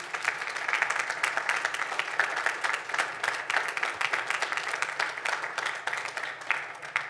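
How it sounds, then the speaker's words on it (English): Audience at an evening civic engagement panel on media misinformation and disinformation gives the panelists a sustained round of applause, dense and steady throughout with no talk over it. "Give a round of applause to folks here tonight."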